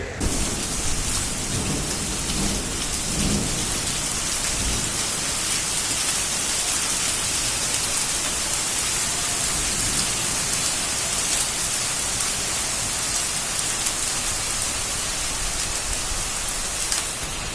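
Heavy rain and hail pour down in a thunderstorm over a district headquarters town, a loud, constant wash of hiss with faint low rumbling beneath and no voices.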